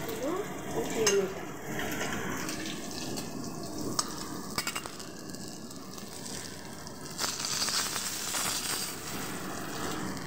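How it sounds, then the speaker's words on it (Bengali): Katla fish pieces frying in oil in a pan, a steady sizzle broken by clinks and scrapes of a utensil turning the fish, with a brief spatter of sharp clicks partway through. "এইভাবে সবগুলো মাছ ভেজে নেব।"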